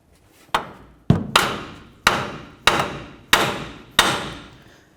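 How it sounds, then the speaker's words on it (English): A hammer strikes the steering knuckle of a 2004-08 Ford F-150 to free the outer tie rod end: six loud, sharp metallic blows about a second apart, each ringing briefly. "To remove your outer tie rod end, it's best to hit right along the knuckle."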